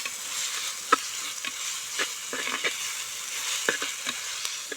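Onions with salt sauté in a pan for a quail fry, giving a soft, steady sizzle with occasional light scrapes and taps of stirring, fairly quiet and close.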